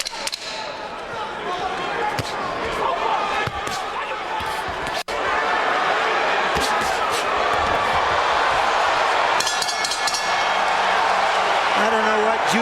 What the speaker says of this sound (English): The Spinks fans in the crowd trying to boot him into submission